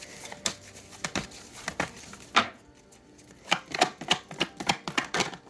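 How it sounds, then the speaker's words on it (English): Rapid crisp paper riffles and flicks come in bursts, a deck of cards being shuffled close by with brief pauses between sharp snaps. "I'm going to try to give you one more shuffle here"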